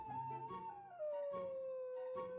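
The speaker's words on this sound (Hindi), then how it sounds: "भाई कुत्ते भौंक रहे यार," A dog howls at night in the jungle, one long, wavering, falling wail that is fairly faint and distant, with a few brief yips beside it.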